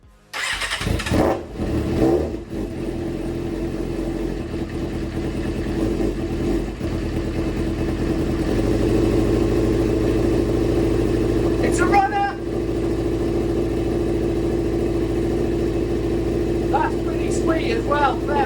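A crashed Suzuki GSXR motorcycle engine cranks and fires, then settles into a loud steady idle, with sharp throttle blips and revs partway through and again near the end.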